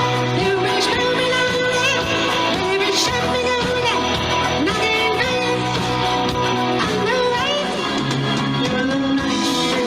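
Tribute music played live in a studio by the leader of a tribute band, a full, steady band sound with sung melody lines, close and loud throughout.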